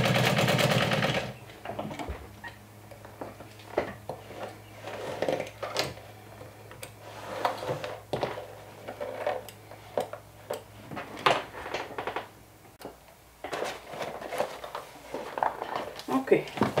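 Sewing machine stitching all the way around a glow-in-the-dark backpack or crossbody bag, running in short repeated bursts with pauses, while a person talks over it.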